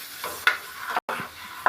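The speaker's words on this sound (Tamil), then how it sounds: "போட்டு ஒரு ஃப்ரை." Halved boiled eggs sizzle and fry in a pan with chili masala, with soft stirring scrapes and a short frying hiss that cuts out briefly partway through.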